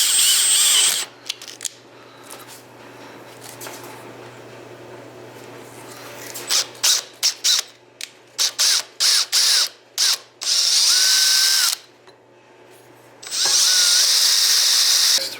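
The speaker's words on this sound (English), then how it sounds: "So now we're going to drill all the way through to get to the slide" A power drill boring through an ATV carburetor part to reach the slide, with a long whining run, a series of short bursts in quick succession, then two more sustained runs, loud and close.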